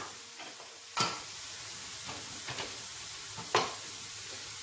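Shrimp sautéing in a pan with chili flakes and tarragon, a soft continuous sizzle broken by a few sharp stirring scrapes and clicks, close by with no talking.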